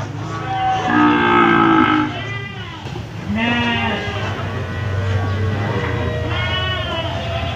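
Simmental cattle at the Jonggol livestock market low and moo repeatedly at close range, several long calls overlapping, with bleating animals and crowd noise in the background.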